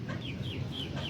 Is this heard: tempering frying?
no